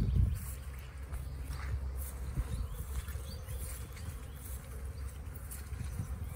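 Honeybees buzz steadily around hives on the first fine early-March day of the beekeeping season, a dense, close swarm hum that runs without pause, with individual bees droning past near the listener.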